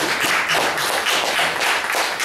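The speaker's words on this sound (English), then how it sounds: "Give yourselves a round of applause" Applause from an audience at an evening poetry cafe gathering, a steady wash of many hands clapping close and fairly loud across the whole moment, with no talk over it.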